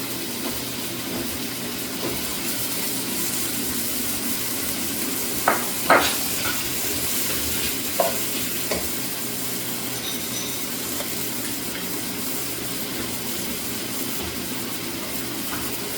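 Chicken for a stew sizzles steadily in a pan, a constant close frying hiss broken by a few sharp scrapes of stirring.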